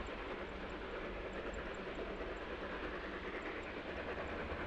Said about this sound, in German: Man hat den Eindruck, die Lok würde etwas schleudern.